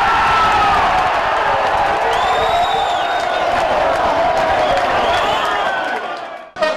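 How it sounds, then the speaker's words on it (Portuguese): Football supporters in a stadium roar and cheer after a goal, with loud sustained crowd noise, whoops and scattered applause, and a commentator's voice over the din. "2 a 0 Serrano e festa da torcida."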